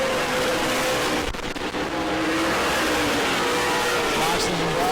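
Modified race cars roar around the New Smyrna track during a race, a continuous loud, dense engine drone with overlapping cars, under a commentator's voice.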